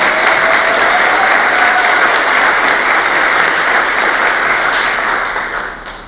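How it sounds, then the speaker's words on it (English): Audience applause for the Chief at a First Nation gathering, a loud, dense and steady wash of clapping from a large crowd that holds for about five seconds before starting to fade. "let's have a round of applause for our Chief."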